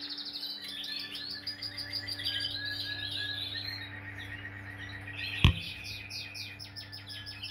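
Caged canaries at a breeder's aviary trill and chirp in bright, continuous song throughout, over a steady low hum, with one sharp knock partway through.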